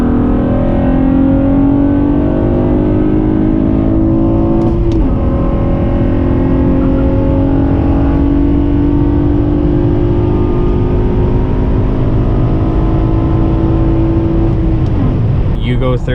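Cars accelerate side by side in a drag race, a loud engine roar rising in pitch through the gears, with a shift partway through and continuous road noise.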